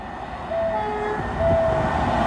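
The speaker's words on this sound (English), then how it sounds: "Oh no, it's the class 47 drag going up to Derby RTC." Class 47 locomotive 47749 hauling a drag towards Derby RTC through Market Harborough station, its horn giving two sustained tonal blasts over a steady, loud rumble of the passing train.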